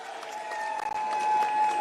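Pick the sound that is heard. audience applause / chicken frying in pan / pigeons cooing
audience applause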